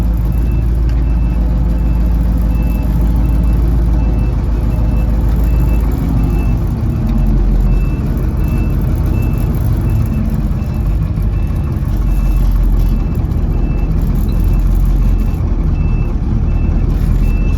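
A farm truck backs into position during a western Pennsylvania corn harvest. Its reversing beeper pulses steadily and evenly over the loud, constant rumble of the diesel engine for the whole stretch, and no one speaks.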